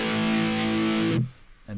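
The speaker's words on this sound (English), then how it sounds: "Oh, that's my echo." A distorted electric guitar chord rings through the Overloud TH-U amp plugin, sustained and loud, then cuts off abruptly, leaving a faint trailing echo before a brief burst returns at the end.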